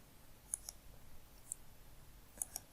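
Computer mouse clicks while adding fields during board setup in ECOUNT groupware software, a few sharp faint clicks spaced apart, some in quick pairs, over quiet room noise.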